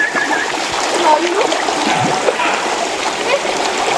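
River water flows and splashes steadily along a trail to a waterfall, a constant close rush of water with faint voices underneath.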